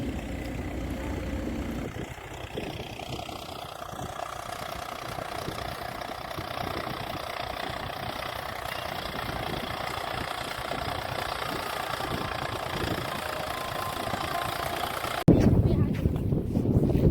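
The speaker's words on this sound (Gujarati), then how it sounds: "અને જો ટ્રેક્ટર પણ આવી ગયું છે" A farm tractor idles nearby, its mid-pitched engine chugging steadily in a rough, knocking rhythm that holds constant, then grows louder and harsher near the end.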